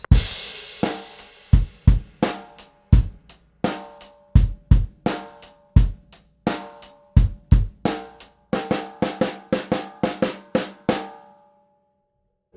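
Drum kit playing a grade-level rock rhythm, sharp repeated hits in a steady driving pattern building to a faster fill of rapid strikes near the end, close and alone.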